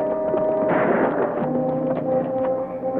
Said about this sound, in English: somebody's shooting at him again